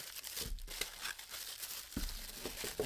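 Close, quiet crinkling and rustling of plastic wrap being pulled open from a rattan-style chandelier, with a few soft crunches and tears.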